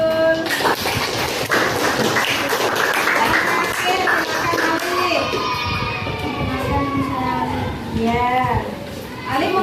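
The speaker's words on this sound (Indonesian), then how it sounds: "tepuk tangan buat Najrul" Classroom of sixth-grade pupils clapping for a classmate, a dense burst of hand claps with children's voices and chatter mixed in, close and lively throughout.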